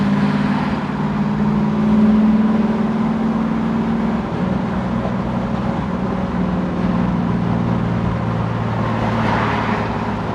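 A 1968 Camaro SS restomod with a 650 hp supercharged LT4 V8 and six-speed cruises on a busy freeway, heard from inside as a steady low engine drone and road rumble with no talking.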